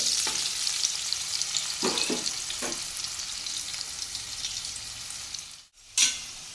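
Potatoes fry steadily in a pan with a continuous, close sizzle; a few soft scraping touches come around the second and third seconds, then a brief dip to near silence before the sizzle resumes.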